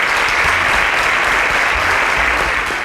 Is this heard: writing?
no